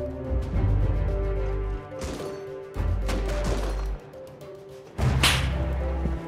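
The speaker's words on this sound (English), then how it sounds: "The defenders in their own tower and the raid team members in their raid base are still trading sniper fire back and forth" Rust raid with sniper fire traded between a defenders' tower and a raid base: sharp, spaced single cracks over a steady low hum, with a louder report toward the end.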